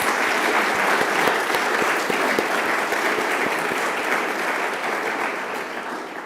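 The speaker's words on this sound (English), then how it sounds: "Can you please join us in a round of applause to say special thanks?" Sustained applause from an audience at an awards ceremony, a dense, steady wash of many hands clapping that stays loud throughout and tapers slightly near the end, with no voices over it.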